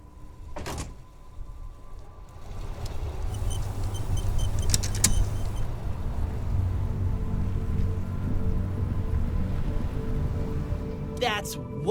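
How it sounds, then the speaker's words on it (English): A motor carriage in the video game Disco Elysium gives a low, rumbling engine hum that builds and holds steady, with mechanical clicks and a door-like clunk around it and a voice speaking over part of it. "That's one brutal motor carriage."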